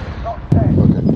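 A sniper rifle fires once in a shooter video game, a single sharp, loud crack midway that is followed by a short rumbling tail.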